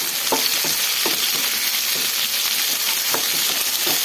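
Onion and five or six green chillies fry in a hot pan for a ridge gourd chutney, giving a loud, dense, constant sizzle broken by regular stirring taps.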